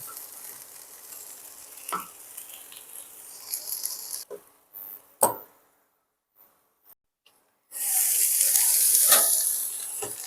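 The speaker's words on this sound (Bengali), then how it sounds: "ফুলকপিটাও ভাজা হয়ে আসছে" Cauliflower frying in a pan, with bursts of sizzling and stirring clatter broken by a quiet stretch, then a loud steady hiss returning near the end.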